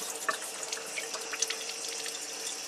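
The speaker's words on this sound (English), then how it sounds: "Gonna open up the water" Water runs steadily from the tap of a Kangen water machine into a container, a soft continuous hiss with small splashes, close by and with no talking.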